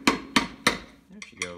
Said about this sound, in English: Give this thing a couple whacks and see if we can get her free.